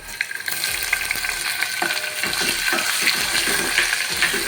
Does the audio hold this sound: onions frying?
yes